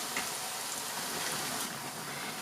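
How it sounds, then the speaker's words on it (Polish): Potato pancakes fry in a pan with a steady, even hiss of oil, constant and close-up without a break, and no one speaking. "I smażymy na złoty kolor z każdej strony."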